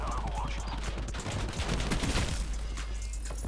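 Gunfire in the Black Ops 4 shooter game, a dense, continuous barrage of loud shots layered together with a voice talking over it.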